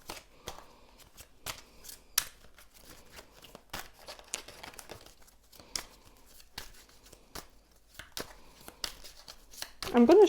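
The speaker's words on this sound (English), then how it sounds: "I'm going to shuffle a little bit more" A deck of tarot cards is shuffled by hand during a pick-a-card reading, making crisp, irregular riffling clicks and soft slaps spread across several seconds. A voice begins right at the end.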